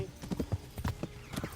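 Hooves of a horse clip-clopping at pace in the medieval game Kingdom Come, a quick uneven series of thuds, fairly quiet, with faint voices in the background.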